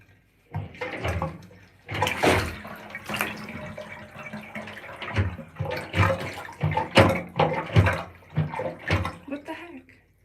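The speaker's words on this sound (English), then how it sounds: "my drain was draining" Bathtub drain emptying, a steady rushing, gurgling wash of water that runs close and fairly loud throughout, with a voice talking over it at points.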